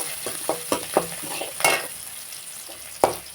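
Sautéing in a pan while making upma: a steady sizzle with a series of sharp spatula scrapes and clinks, close and clear, with no talking.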